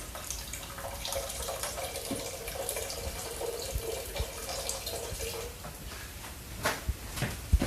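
Hot water runs from a tap into a pressure cooker to top it up, a steady close trickle and splash that continues for several seconds before a few clanks of the pot.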